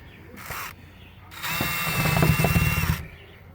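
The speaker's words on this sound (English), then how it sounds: "I cut it off so that I could put it in my drill." A short whir of a power drill, a pause, then a longer buzzing run as the drill drives a screw into a Suncast 7x7 shed, with ratcheting clicks underneath.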